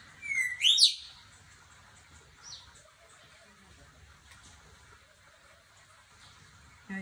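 A pet parrot mimics wild bird calls learned from a bird app, giving a couple of quick, shrill rising-and-falling whistles up close, then a brief faint chirp, followed by near silence.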